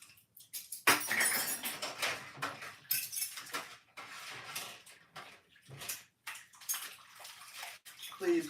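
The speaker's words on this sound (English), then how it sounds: "Then I steam them under steaming hot water." Hot tap water runs over silverware in a kitchen sink, a steady close splashing and hiss broken by occasional metallic clinks of cutlery, with some talking in the background.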